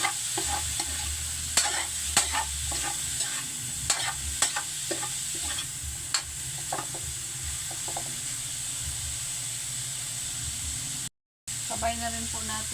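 Meat for ginataang langka sizzles and fries in its own rendered fat, a constant hiss with scattered pops and crackles and occasional stirring clicks, cut by a brief silent gap near the end.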